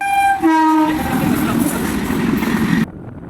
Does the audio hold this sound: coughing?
no